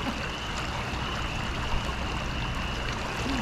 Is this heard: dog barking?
no